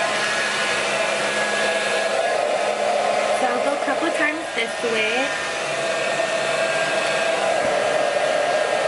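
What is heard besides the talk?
blow dryer drying hair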